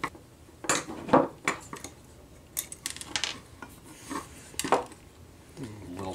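Metal clamp parts from a Benbo Trekker Mk3 tripod with aluminum tubing are handled up close, with scraping, rasping and clinking in irregular bursts and short gaps.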